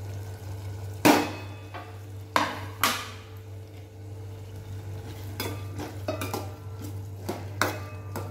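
Tomatoes going into a pan of frying chillies and being stirred, with a steady low sizzle underneath and several sharp scrapes and clinks of a spoon against the pan, some close and loud, others lighter and scattered.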